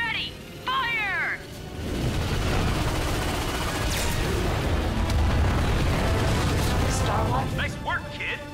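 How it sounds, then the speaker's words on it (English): Starwatch ion cannons fire in Ratchet & Clank, a dense roaring barrage of blasts and explosions rumbling continuously for several seconds after a few brief laser-like zaps. "Cannons ready! Fire!"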